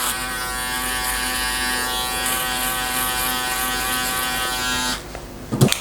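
Electric hair clippers with the blade open buzz steadily and close up while cutting a skin fade, a tonal whine that stops near the end and is followed by a few handling knocks.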